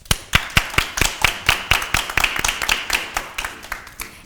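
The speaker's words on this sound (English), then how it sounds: "join me in a round of applause of thanking my guest" A small audience claps for a talk-show guest in a studio, distinct individual claps at first that quicken into a light, thin round of applause, close and moderately loud.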